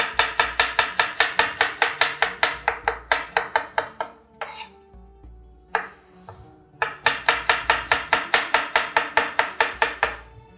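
A knife chops garlic into small pieces on a board with quick, regular taps, pausing briefly midway before the rapid rhythm resumes, close and crisp.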